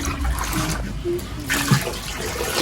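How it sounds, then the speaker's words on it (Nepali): Cold water pours steadily into a kitchen pot as eggs are set to cool, a continuous rushing splash under people talking nearby. "यसमा चिसो पानी राखौँ न भाँडामा।"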